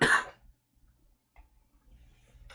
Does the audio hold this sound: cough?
yes